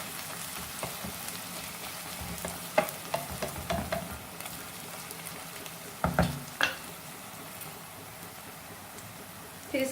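Crushed green chillies and mutton keema fry in a pan, a soft steady sizzle with occasional scraping stirs and clinks of a spoon against the pan, close and fairly quiet.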